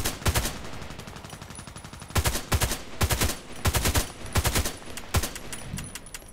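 Bursts of gunfire from the sniper game ADXsniper, with an HK417 rifle in use: several rapid clusters of sharp, loud shots in quick succession, separated by brief pauses.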